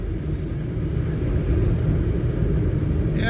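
A taxi being parked, its engine giving a steady low rumble throughout with little change, close and fairly loud, ending with a faint high whine at the very end; no one speaks.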